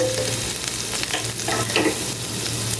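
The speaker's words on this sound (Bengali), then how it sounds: "এখন এটার মধ্যে দিয়ে দিব 1টা রসুন কুচি, একেবারে মিহি।" Finely minced garlic sizzles in melted butter in a frying pan, a loud, steady close frying hiss with soft stirring scrapes, no voices.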